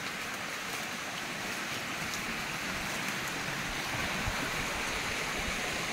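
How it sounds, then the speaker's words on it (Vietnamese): River water flowing steadily through a forest, a continuous broadband rush heard close and alone, with no voices. "Đấy, đây là nước sông"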